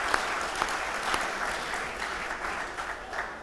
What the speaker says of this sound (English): I think we need to give him a round of applause, please.